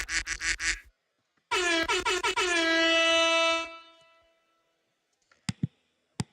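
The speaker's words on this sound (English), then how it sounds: "Is the air horn still used?" Air horn sound effect, loud and close, with a fast run of short blasts followed by one long sustained blare that fades out, then a few sharp clicks.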